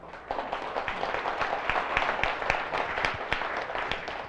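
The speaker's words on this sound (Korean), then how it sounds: "진짜 박수 한번 보내줘요." An audience at a business presentation applauds, with steady dense clapping running throughout at a moderate distance and no voices above it.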